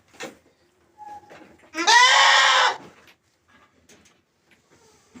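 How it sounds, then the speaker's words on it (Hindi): A goat in a farm barn lets out one loud, harsh bleat lasting about a second, framed by faint scattered rustles and thin background noise. "बकरी की है"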